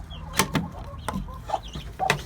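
Hens cluck in a village coop where a broody gurk hen sits on eggs, giving several short, fairly close clucks spaced irregularly over low farmyard background noise.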